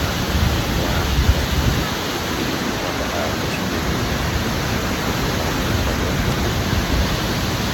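Water from a waterfall over rocks splashes and roars in a steady, dense wash that fills the scene without pause, loud and close, with no break or change in intensity.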